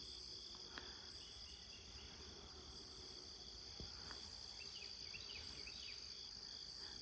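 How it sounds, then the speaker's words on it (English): Faint, steady hum of bees and insects among jewelweed wildflowers in a garden, with a continuous high chirring drone and a few soft, distant bird calls. "I can just hear a hum of bees and insects right here."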